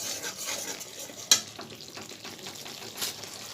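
Spice paste fries and is stirred in a pan with a steady close sizzle, the spoon scraping through it and one sharp knock against the pan.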